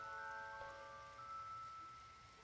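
Gentle rain falls in the video game Douse, a soft, faint, steady patter with a few thin tonal lines from the game's music, with no talking.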